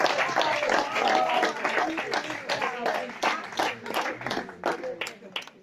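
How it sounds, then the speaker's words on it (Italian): A small audience at a network-marketing talk claps in a run of distinct, irregular hand claps that start strong and then thin out and fade toward the end. "Grazie ragazzi per l'applauso"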